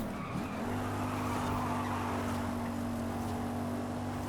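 Car tyres in Forza Horizon squeal in a short, mild drift through a corner, the sustained tone steady over a low engine hum, with no talk.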